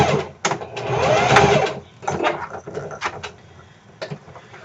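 A sewing machine runs in short bursts while stitching a faced seam on a garment, a whirring mechanical hum that stops and restarts, close and fairly loud, no talk.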